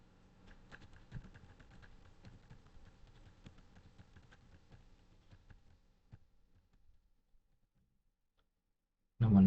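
Typing on a computer keyboard while entering school data into a student transfer letter application: steady quick clicking keystrokes for about six seconds, then a pause and a sudden loud bump at the very end.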